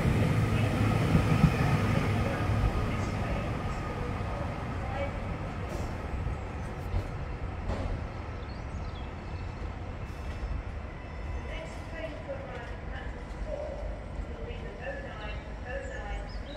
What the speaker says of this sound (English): Transpennine Express 397003, 1 Sierra 38, Manchester Airport, to Edinburgh Waverley.